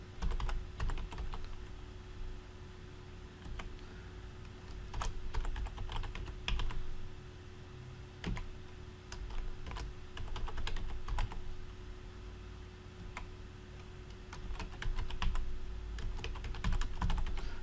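Rapid typing on a computer keyboard while entering Excel column titles, with irregular bursts of clicky keystrokes and occasional heavier key taps, moderately close and alone with no talk.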